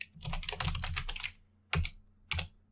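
Computer keyboard typing while writing if/else code in Python: a fast burst of close keystrokes for about a second and a half, then two separate single key presses after a pause.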